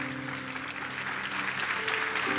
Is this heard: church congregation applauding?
yes